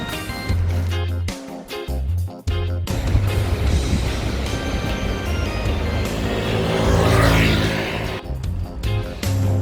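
A car engine runs steadily with the air conditioning on, a loud low rumble and broad whooshing airflow swelling toward the end, with no talking.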